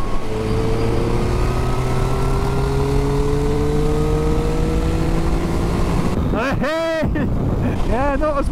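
Triumph Street Triple RS and KTM 890 Duke R motorcycles doing a top-gear roll-on, engine notes rising steadily together under heavy wind noise, then a loud close pass-by sweep near the end.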